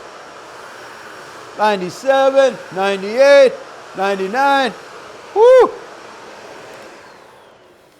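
A Shark vacuum cleaner running over carpet gives a steady, airy drone throughout, under a person counting aloud and cheering, before the drone fades toward the end.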